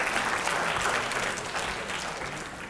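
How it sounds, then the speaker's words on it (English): An audience claps steadily in a dense, even wash of applause that fades slightly toward the end. "please give him a round of applause"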